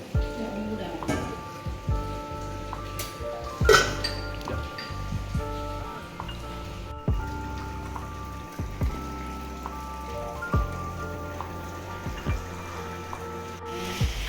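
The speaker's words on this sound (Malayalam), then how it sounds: "നല്ല മഴയുണ്ട്" Steady heavy rainfall pattering on surfaces throughout, a constant wash of sound with other noises layered over it.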